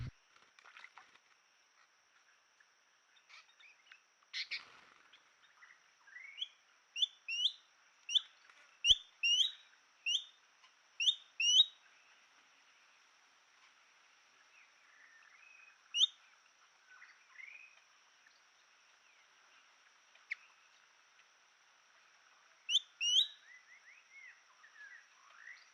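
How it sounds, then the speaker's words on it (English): Green-billed malkoha pair calling at a rocky pool, a series of short, faint rising notes repeated in bursts with long quiet gaps, over a steady insect hum. "And green-billed Malkoa back again as a pair."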